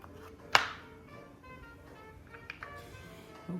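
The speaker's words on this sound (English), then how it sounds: "we can cut up a little bit of lemon here" Knife slicing a lemon on a cutting board in a home kitchen, one sharp knock of the blade on the board followed by a few softer taps and faint scraping, close and fairly quiet.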